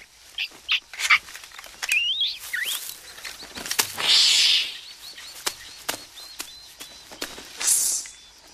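Birds chirp and call in an animated film: a few bright sweeping whistles and short tweets come in bursts over a quiet scene, with scattered clicks and rustles between them and no speech.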